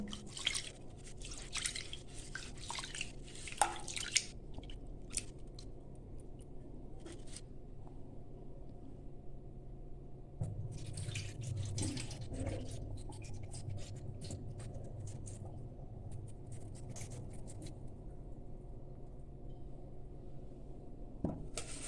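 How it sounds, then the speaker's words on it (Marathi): Rice, lentils and fenugreek seeds swish and rattle as water drips and trickles, with intermittent scratchy splashing and quieter stretches, close and soft. "आपण हे मिश्रण धुवून घेऊया डाळ तांदूळ आणि"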